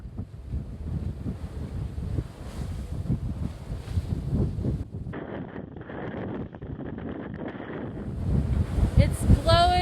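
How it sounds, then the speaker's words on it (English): Strong wind at 25 to 30 knots roars across a microphone aboard a 27-foot sloop sailing solo offshore in November, a steady loud rushing buffet mixed with waves and hull wash, with a brief creak or whine near the end. "It's blowing 25 to 30 knots."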